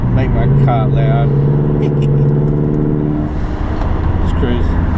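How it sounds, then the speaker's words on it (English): A loud Subaru Forester fitted with a Honda K24 engine drives along with a steady droning exhaust note heard from inside the car, while someone talks over it. "As I make my car loud."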